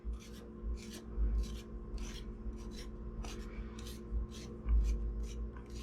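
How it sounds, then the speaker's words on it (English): A spoon scraping the skin off fresh ginger gives short, repeated raspy scrapes in an uneven rhythm, close and fairly quiet over a faint background hum. "Here's how you peel ginger with a spoon."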